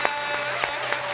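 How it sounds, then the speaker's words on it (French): A live audience applauds for a guest, a continuous wash of clapping with a few sharper individual claps standing out at moderate volume. "Clotilde, on applaudit pour Clotilde."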